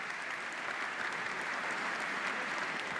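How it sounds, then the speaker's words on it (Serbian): A crowd at a boxing event applauds continuously, a steady, moderately distant wash of clapping filling the hall for a few seconds. "Molim vas jedan aplauz pre nego što predstavimo sudije."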